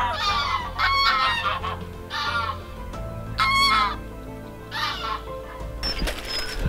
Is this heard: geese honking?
yes